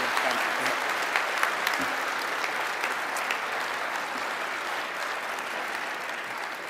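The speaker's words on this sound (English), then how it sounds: "Round of applause for Coach one more time." Sustained audience applause at a Notre Dame men's basketball introductory press conference for the new coach, a dense, even roar of clapping with a few sharper individual claps standing out, continuing steadily throughout.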